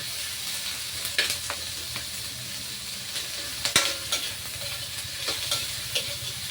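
Bitter gourd and onion sauté in a pan with a continuous low sizzle, broken by scattered light scrapes and taps of a utensil stirring, close and moderately loud.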